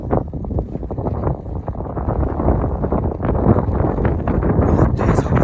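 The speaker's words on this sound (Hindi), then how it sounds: "बहुत तेज हवा चल रही है रंगदुम में" Strong wind roars across the high-altitude valley at Rangdum during a snowfall blizzard, a steady loud rushing that buffets the microphone with gusts for the whole stretch.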